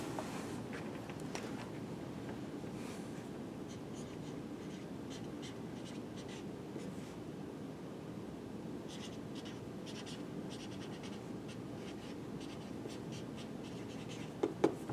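A pen or pencil writing on paper, a soft, steady scratching with small strokes and pauses, close up and quiet over low room noise, with no one speaking.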